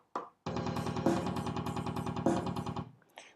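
Drum playback from Guitar Pro 7 plays a quick, evenly spaced run of triplet hits with a prominent kick, steady and mechanical, stopping abruptly after a few seconds.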